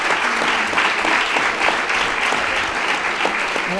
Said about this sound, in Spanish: les pido un fuerte aplauso para recibir al doctor